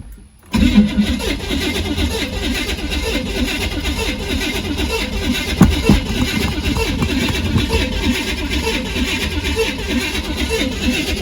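A 1968 Corvette with a Quadrajet carburetor cranks and fires after a short silence, then runs at a steady, rough idle with a brief blip of revs around the middle, loud and close throughout.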